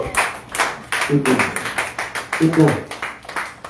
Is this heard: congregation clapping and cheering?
yes